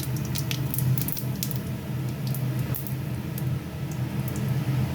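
Chopped onion and cumin seeds fry in hot oil for a Bengali bhetki fish-bone chorchori, making a steady, close, dense sizzle with scattered crackling pops throughout.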